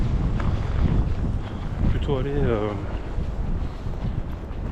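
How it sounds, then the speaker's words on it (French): Gusty wind during a snowstorm in Quebec, a low blustery rumble buffeting the microphone, with someone speaking briefly in French over it. "avec tous les arbres je suis un peu protégé quand même du vent"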